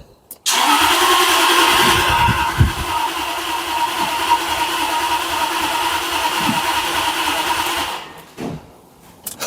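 Jaguar XKR X100 engine cranking loudly and steadily for about seven and a half seconds on its first start attempt after an inclination sensor replacement, close up, then cutting off with no catch.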